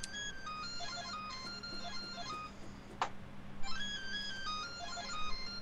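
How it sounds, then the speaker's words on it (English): A phone ringtone plays a repeating melodic electronic pattern, stopping briefly midway and then starting again, moderately loud over a low steady hum with a sharp click in the gap. "Pick up your fucking phone."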